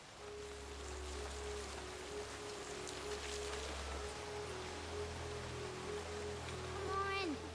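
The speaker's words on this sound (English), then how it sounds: "The rain is only getting worse, Apple Bloom." Cartoon rain falling steadily as a soft continuous hiss of drops, fairly faint, with a low hum and a brief rising whoosh near the end.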